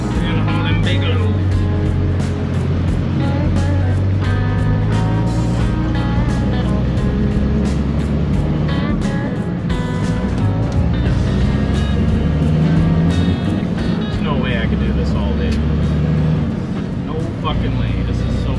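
Big truck hauling loads, a steady, loud engine drone with road rumble heard from inside the cab while driving, with someone talking over it throughout.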